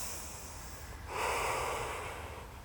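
A slow, steady breath drawn in and released through the nose while holding a yoga lunge for runners, heard close and quiet with no talking.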